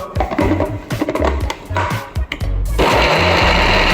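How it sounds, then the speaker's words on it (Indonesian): An electric food chopper runs while chicken ingredients are processed for soy sauce chicken, whirring loudly in uneven bursts before settling into a steady, continuous grinding drone near the end. "sekarang kita akan mulai ngecop"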